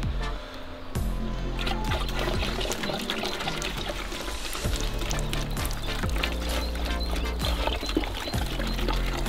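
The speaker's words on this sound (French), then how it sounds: "Nous mettons un peu de vinaigre." Vinegar is poured for a Coca-Cola and Mentos volcano experiment, making a continuous splashing, gurgling pour with scattered small clicks and knocks for about nine seconds, with no talking.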